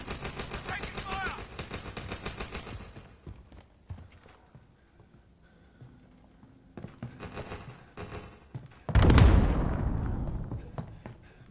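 Gunfire from Call of Duty Modern Warfare, with rapid bursts of shots in the opening seconds, scattered shots and game noise afterward, then a loud booming blast near the end, mixed with voices.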